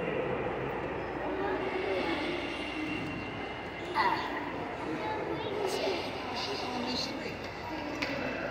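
A steady rumbling model train sound at a railroad museum runs throughout with a rolling, rattling texture and a few brief metallic squeaks, fairly close and continuous.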